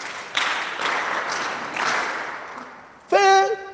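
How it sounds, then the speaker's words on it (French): Congregation applauding during a Catholic Mass, a loud, even wave of clapping lasting about three seconds before a voice cuts in. "Applaudissez même pour lui, là"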